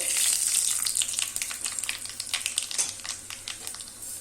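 Mustard seeds sizzle and crackle in hot oil left over from frying fish, a steady close frying hiss with scattered popping and spattering, no voices present.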